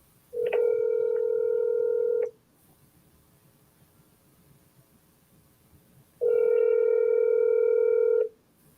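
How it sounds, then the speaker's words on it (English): Telephone ringback tones on an outgoing call: two long, steady electronic rings, each about two seconds, separated by a silent gap of roughly four seconds, clear and alone with no talk. "That's an instance where I would double dial right away."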